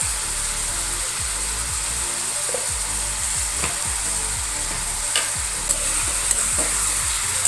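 Mutton frying in a pan while being stirred, a loud continuous sizzle with rapid, repeated scraping strokes of a spatula, close up with no talking.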